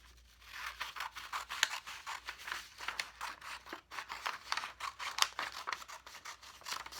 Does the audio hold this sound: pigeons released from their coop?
no